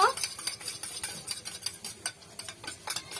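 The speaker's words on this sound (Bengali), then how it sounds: "এই সসগুলো আমি সবকিছু একসঙ্গে করে মেখে নেব" Soy, chilli and tomato sauces being mixed together for homemade chow mein, a quick run of light spoon-on-bowl clinks and stirring scrapes close by, with no voices.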